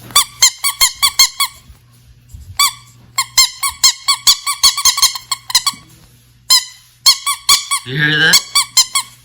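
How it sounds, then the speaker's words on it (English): A rubber ducky scrub toy squeaked repeatedly in quick, loud bursts of bright chirps, with short gaps between runs and a voice speaking briefly in the middle. "So it's a rubber ducky scrub."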